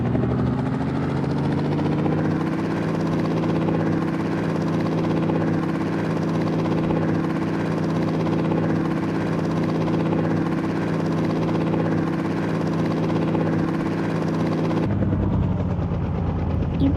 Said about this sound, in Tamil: ஹெலிகாப்டர் கிடச்சிச்சு